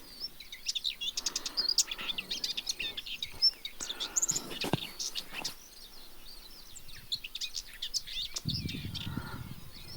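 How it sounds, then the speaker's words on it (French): A rock thrush on a rocky outcrop of a limestone plateau sings in quick, high chirping phrases with short gaps, fairly clear, joined by a brief low rustle near the end. "Voilà le merle de roche."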